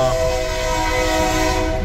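A loud, close freight train pulled by four locomotives makes a continuous, heavy rumble on the rails, with a steady droning engine tone and no talk.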